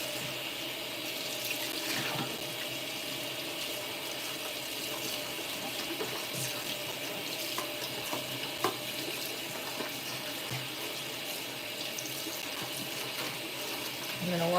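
Tap water running steadily into a sink while a plastic hair bleach container is rinsed out, a continuous close hiss with small knocks and rattles of handling.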